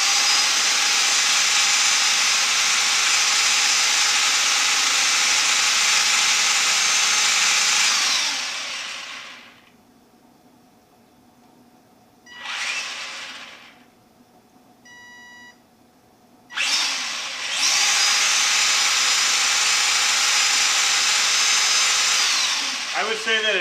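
RC car motor at full throttle indoors, a loud high-pitched electric whine that cuts out briefly, returns in a short burst, then resumes at full power.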